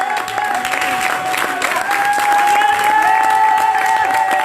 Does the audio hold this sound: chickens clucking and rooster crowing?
no